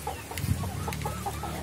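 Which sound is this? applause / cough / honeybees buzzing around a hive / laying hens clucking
laying hens clucking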